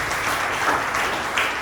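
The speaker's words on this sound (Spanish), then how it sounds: "Un aplauso al Señor." A church congregation applauding during a sermon, a loud, dense, continuous wash of clapping from many people filling the room, brief and without talk.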